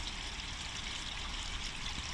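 Water pours steadily into a drained koi pond, a soft, continuous trickling rush with no voices.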